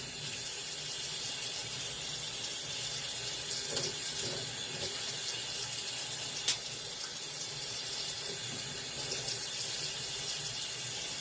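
Water running continuously from a tap in a steady hiss, with a faint clink partway through.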